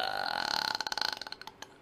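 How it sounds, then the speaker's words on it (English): A single long burp rolls out close to the mic, starting as a steady croak and breaking into a rapid series of fading gulping pulses over about two seconds. "that was the burp that I talked about earlier on pre-stream that was stuck in my chest"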